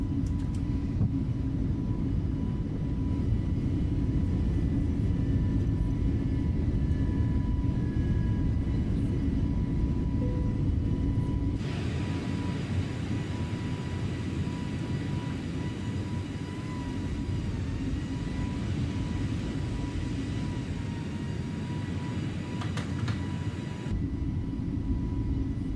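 Steady engine roar and rumble of an Airbus A320neo taking off and climbing in Microsoft Flight Simulator, continuous and moderately loud, with a shift in tone about midway as the climb continues.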